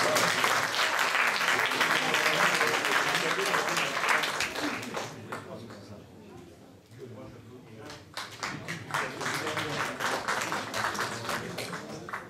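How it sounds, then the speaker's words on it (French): A crowd applauds player Francis arriving for the final of a Questions pour un champion quiz tournament in Orvault, 2012: loud, dense clapping that thins out midway, then swells again with scattered claps. "Nous attendons Francis sous vos applaudissements"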